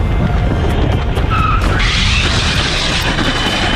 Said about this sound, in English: So you see me sit down, I hit the brakes